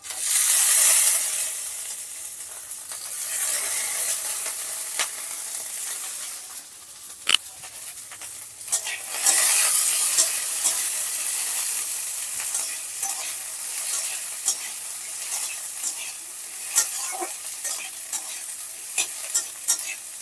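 Roasted nuts fry with dried chili, onion and garlic over low flame. A loud, steady sizzle and hiss runs throughout, broken by occasional stirring scrapes and clacks, with no voices.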